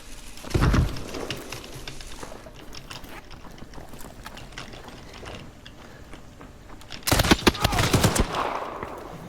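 Video game gunfire, a loud rapid burst near the start and a longer loud burst late on, with clattering mechanical clicks between them and no talking.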